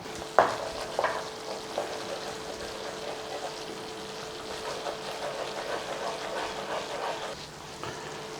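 Chicken thighs sizzle and fry steadily in a pan for creamy mustard chicken, a continuous close hiss with a few clunks and stirring noises near the start.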